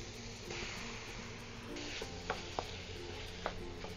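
Pork, mushrooms and peppers cook in a pan with a steady, quiet sizzle, broken by a few small clicks and scrapes of stirring.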